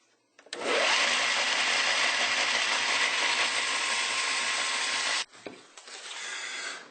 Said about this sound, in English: We want to reshape the top of this nut.